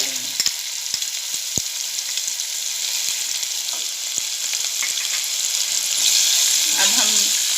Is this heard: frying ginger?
yes